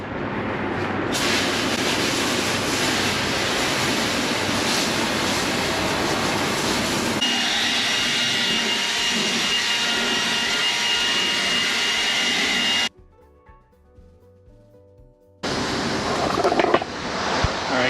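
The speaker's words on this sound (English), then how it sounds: "It's been about 22 minutes, and I'm going to start rinsing all of it off." Water sprays steadily and loudly across a POR15-treated Ford truck floor during rinsing, a continuous hissing rush that drops away briefly before resuming just as strongly.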